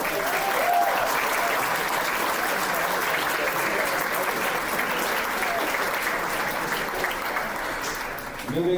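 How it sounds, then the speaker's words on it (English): Steady, dense applause from a large crowd at a Utah high school esports championship final fills the whole stretch, loud and continuous, tapering slightly at the end. "Give all our players one more round of applause."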